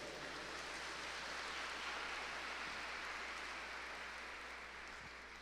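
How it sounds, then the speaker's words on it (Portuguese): A church congregation applauds steadily after a Bible reading during a Brazilian Portuguese sermon, producing a dense, even wash of clapping that holds at a constant level throughout, with no talk over it. "Vamos aplaudir a palavra do Senhor"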